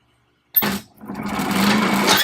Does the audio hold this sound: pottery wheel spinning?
yes